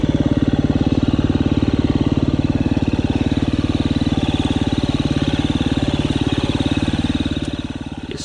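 A KTM 350 EXC-F dirt bike engine pulls steadily up a rocky trail hill climb, a close, continuous low drone with an even pulsing beat that eases slightly at the very end.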